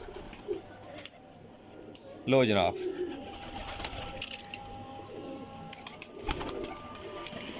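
Lal Pari pigeons coo low and quietly in the background, broken early on by a man's brief spoken remark.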